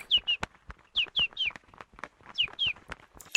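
Birds chirp and tweet in quick repeated bursts, short bright calls coming close and clear over a quiet background.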